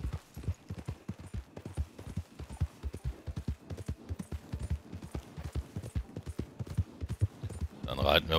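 Horse hooves clip-clopping at a steady trot in Red Dead Redemption 2, a continuous rhythmic patter of hoofbeats heard close, with someone talking over it throughout.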